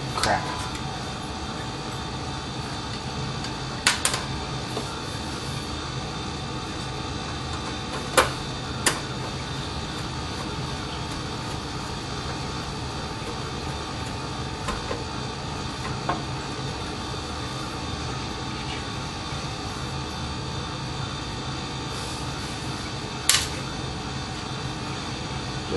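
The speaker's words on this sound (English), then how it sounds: "It's the air conditioner." Air conditioner running indoors during a Dell Dimension 3000 desktop rebuild, a steady broadband hum filling the room throughout, with a few brief clicks and knocks over it.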